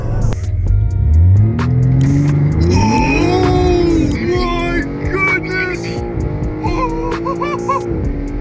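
BMW sports car, stock and very quick off the line, accelerating hard up through the gears, its engine note climbing loud and close with a rising, sweeping pitch as it pulls away.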